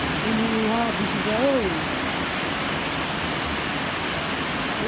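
Steady heavy rain during flooding in Ende roars as a dense, continuous wash of noise, with a voice briefly speaking over it near the start.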